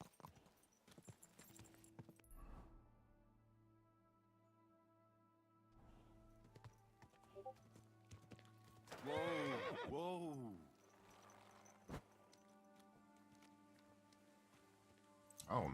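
A horse whinnies loudly partway through, over scattered hoof clip-clops and quiet sounds from the video game Kingdom Come: Deliverance, with a voice exclaiming briefly.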